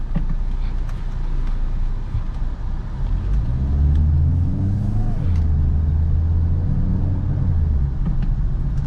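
A 2022 Maruti XL6 facelift hybrid cruises in third gear with its engine humming steadily, a constant low rumble of road and motor noise running throughout with a slight rise partway through.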